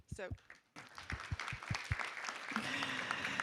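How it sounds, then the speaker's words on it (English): Applause from an audience at a Las Vegas city council meeting rises after a brief spoken phrase, building into a broad, steady wash of clapping that continues to the end. "really do deserve a round of applause"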